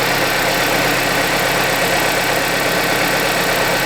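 A Kia Sportage engine idles after new spark plugs have been fitted, giving a constant, even hum with a steady hiss. It holds at the same level throughout, close and loud, with no talk over it.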